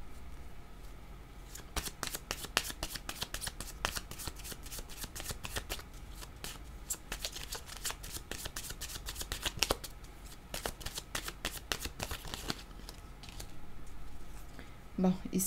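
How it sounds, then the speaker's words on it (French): Oracle cards being shuffled by hand before one is drawn, heard as a long run of quick, crisp riffling and slapping bursts close to the microphone, repeated steadily with brief pauses. "Je vais demander une autre carte rose pour cette zone."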